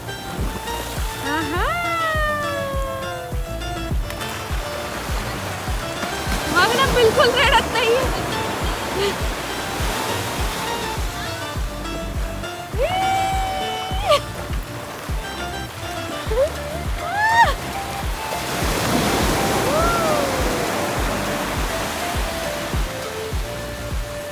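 Sea waves at Keri beach in Goa roll and break in repeated swells, a continuous surf wash with louder surges, while a child's and adults' voices call out now and then.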